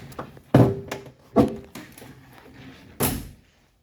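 A 1967 Ford Mustang coupe door under restoration thuds shut, with several solid knocks and a final firm close, near and loud in a quiet workshop.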